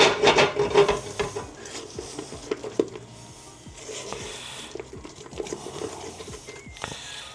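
A utensil stirs yellow food coloring into thick meringue, giving soft, scraping rubs and sticky squishes close up, irregular and fairly quiet, with a few louder knocks against the bowl.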